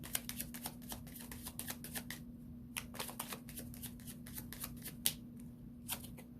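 A deck of chakra cards being shuffled close by, a quick run of crisp papery riffles and flicks with short pauses between bursts, over a steady low hum, with no talking.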